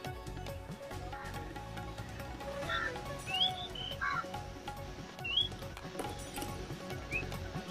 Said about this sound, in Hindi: परिंदे हैं वो, परिंदे